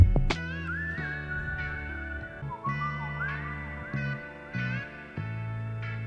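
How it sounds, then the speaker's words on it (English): Melodic whistling in a song carries a wavering tune over sustained tones and low notes, fairly quiet and clear, with no talking. "I like whistling in songs."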